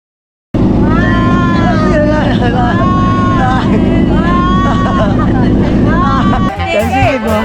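A pumpboat engine runs loud and steady throughout, with a harsh droning rumble and shifting whine, as voices shout over it near the end.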